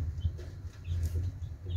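Newly hatched chicks peep faintly among a group of other chicks, with small high chirps scattered over a low steady hum.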